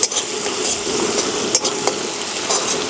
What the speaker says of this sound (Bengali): উনুনের জাল কম করে দিয়ে টমেটো ভালো করে ভেজে নিলাম।